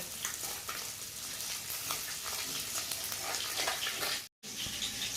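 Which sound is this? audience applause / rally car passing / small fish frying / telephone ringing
small fish frying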